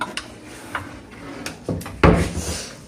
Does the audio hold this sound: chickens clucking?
no